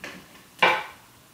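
Single wooden percussion knock added to a lo-fi beat, one sharp dry hit that decays quickly, heard alone against a faint background.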